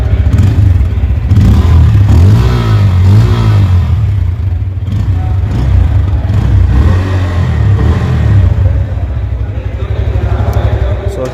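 A Bajaj Pulsar N160 motorcycle with an underbelly exhaust runs close by, its engine throbbing in a steady loud putter with rising and falling revs throughout.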